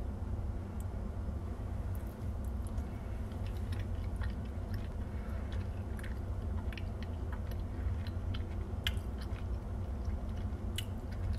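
Close, quiet chewing of microwaved Muscle Mac white cheddar protein mac and cheese, soft moist squishy bites and mouth sounds repeating steadily with no talking.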